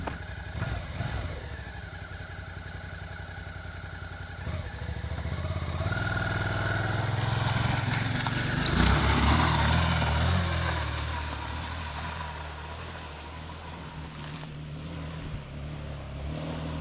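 A Suzuki V-Strom DL650A motorcycle on Shinko tires labors up a steep hill, its engine drone rising from a distance to a louder peak midway, then fading as it climbs away, with no one speaking.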